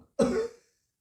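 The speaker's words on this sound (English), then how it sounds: "I cough." A single harsh cough, close and fairly loud, with a short throaty rasp that fades out quickly and leaves silence behind it.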